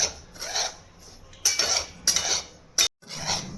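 Semolina for vegetable upma stirred in a pan, a spoon scraping and rubbing against the metal in repeated strokes, with short clinks between them, close and fairly loud.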